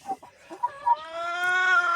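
Korean broiler chickens in a warm coop, a few short clucks followed by a sustained rising call, close and clear with no talking.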